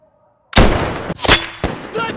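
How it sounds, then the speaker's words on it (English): Sniper gunfire cracks out in a combat setting, a sudden loud shot followed by further sharp bursts and echoing impacts, with shouting voices mixed in. "Sniper fire! Heads down!"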